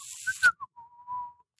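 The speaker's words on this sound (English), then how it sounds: "Is the whistle a clue?" A person whistles a short melodic phrase of a few clear, separated notes, ending on one long sustained tone, close and alone in a quiet room.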